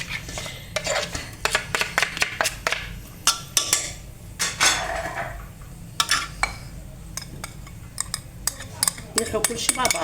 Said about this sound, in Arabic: نلحو كلشي مع بعض، يجينا الدجاج يجينا بنين